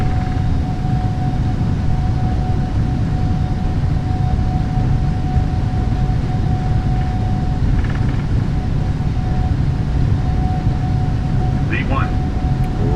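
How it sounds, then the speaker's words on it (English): Airliner jet engines held at takeoff power on a PMDG 777-300ER in Microsoft Flight Simulator, a loud steady broadband roar with a faint whine, continuous for the whole stretch with no talk over it. "Takeoff power is set."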